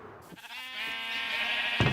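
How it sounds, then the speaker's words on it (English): A Minecraft sheep on a sheep farm gives one long, wavering bleat, loud and close, with a soft click at the start and another at the end. "The sheep farm is producing magnificently."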